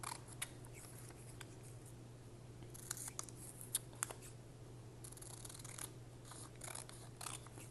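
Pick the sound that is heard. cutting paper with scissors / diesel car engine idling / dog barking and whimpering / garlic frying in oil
cutting paper with scissors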